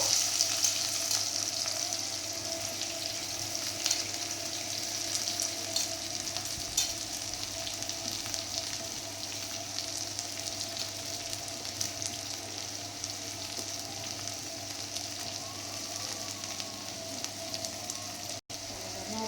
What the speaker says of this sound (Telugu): ముందుగా అయితే మిర్చి కొద్దిగా ఫ్రై అయిన తర్వాత ఆనియన్ వేస్తున్నారు.